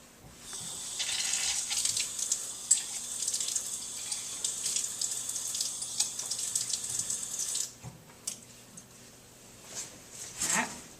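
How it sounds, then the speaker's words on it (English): Tap water runs steadily into a sink for several seconds as an eyedropper is rinsed in a lab setting, then cuts off and returns in short bursts; close and fairly loud, with no talking. "The water that you did not use needs to go down the sink, and you need to wash out your eyedropper."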